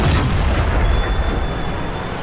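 A tank cannon firing in World of Tanks, one loud close boom that rolls off into a fading rumble.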